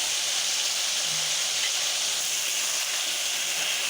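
Ridge gourd lightly frying in a pan in a village-style Bengali kitchen, giving a steady, even sizzling hiss that holds for the whole stretch without pause.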